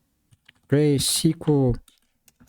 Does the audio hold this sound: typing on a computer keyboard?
yes